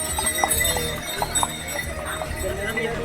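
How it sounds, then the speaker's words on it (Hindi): Horses' hooves clip-clop on the crowded Kedarnath pilgrimage trek path in the Himalayas, with repeated close hoof strikes sounding through steady background noise and the murmur of people. "घोड़े कभी भी टक्कर मार दे रहे हैं, खतरनाक हो गए।"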